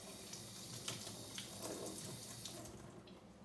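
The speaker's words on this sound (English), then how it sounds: "Then I'll just rinse it off." A used reed rinsed under a running tap after a peroxide dip, a steady, faint stream of water with small splashes and drips, alone without talk.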